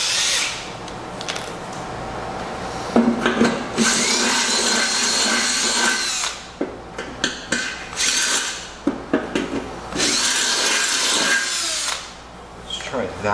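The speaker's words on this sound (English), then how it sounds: "I'm gonna have to drill those holes out another size." A power drill enlarges bolt holes in a John Deere 100-200 series mower deck during a rebuild, whining in several loud bursts with the pitch climbing as the bit cuts, broken by short pauses, clicks and clanks of handling.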